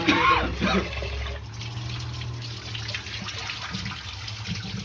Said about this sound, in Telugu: ఇవి వేసి బిర్యానీ కడిగేద్దాం.